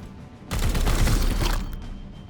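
Burst of gunfire in Warhammer 40K Chaos Gate Daemonhunters as Grey Knights open fire: one loud, dense volley of about a second, close and booming, then fading tail, with no talk.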